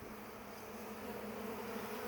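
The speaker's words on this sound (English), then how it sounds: "So bees are cleaning up my mess." Bees cluster over leftover food outdoors, a steady, close, continuous buzzing hum that rises slightly toward the end, with no speech.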